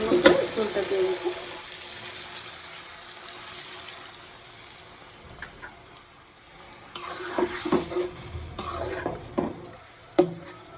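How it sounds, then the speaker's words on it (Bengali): Fish curry cooks in a pan as gravy is added, giving a soft sizzle with scattered clinks and stirring scrapes that grow busier toward the end, while someone talks over it. "মাছটা কষাই নিলাম, আর এখানে পরিমাণ মতো ঝোলটা দিয়ে দিচ্ছি।"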